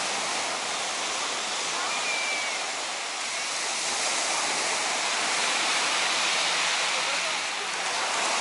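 Sea surf washing onto a crowded Turkish beach on a scorching day, Cleopatra Beach, heard as a steady, fairly loud broadband wash of waves without pause and with no one talking.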